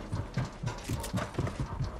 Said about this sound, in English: I can hear the footsteps.